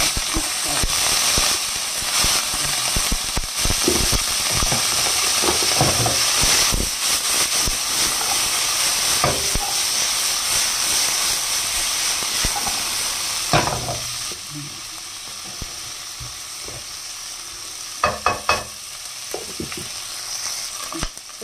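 Green beans dropped into a pan of browned garlic hiss and sizzle loudly and steadily, with scattered clinks and stirring knocks, easing somewhat toward the end.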